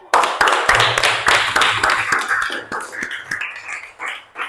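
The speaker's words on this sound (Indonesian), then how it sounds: "Beri tepuk tangan yang meriah" A small group at an Islamic religious lesson claps, starting with sharp loud hand claps that quickly settle into lighter, uneven clapping fading toward the end, with no talking.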